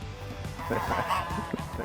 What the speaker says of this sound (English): the only people that are really enjoying it are the geese